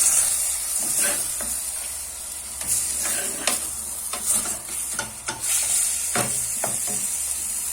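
Onions frying in a pan for a cauliflower and potato galette, a steady close sizzle broken by repeated scraping stirs, with no talking.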